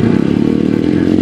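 A motorcycle engine at the Farleigh Castle King of the Castle race drones loud and near in a steady, throbbing pulse, with no voices over it.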